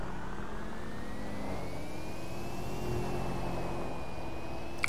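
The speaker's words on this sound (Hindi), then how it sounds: "और इसकी एक तो प्यारी सी आवाज़ है इस कार की।" A white car's engine in GTA 5 hums in a smooth, steady drone with a faint rising whine, quiet and continuous with no talk.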